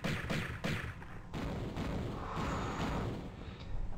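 Repeated booming explosions in the video game Tomb Raider, in an Egypt level, with bursts of blasts in quick succession, dense and rumbling, with a few sharp impacts at the start.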